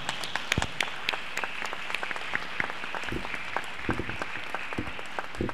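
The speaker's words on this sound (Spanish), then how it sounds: "Vamos a darles un fuerte aplauso." A conference audience applauds steadily, a dense patter of many hands clapping at moderate distance, with a few sharper individual claps standing out.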